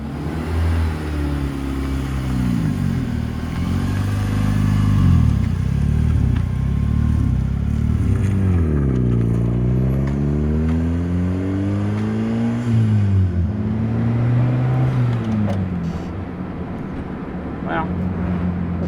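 A K-swapped Honda Civic with a turbocharged K23 engine accelerates hard under boost, its engine note climbing through the gears with a brief drop at a shift, loud and close, while someone talks over it.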